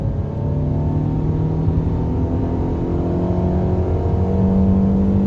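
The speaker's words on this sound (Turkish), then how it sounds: "biraz motor sesini dinleteyim ve gazlamasını görün" A Fiat Panda 1.2 engine running on LPG revs steadily and loudly throughout, its droning pitch slowly climbing as it accelerates, with no talking.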